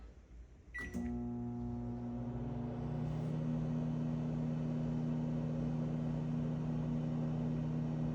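A Samsung microwave oven starts with a short beep and a click, then runs with a steady hum and a low tonal drone. The hum carries on evenly to the end, close and alone, with no talk.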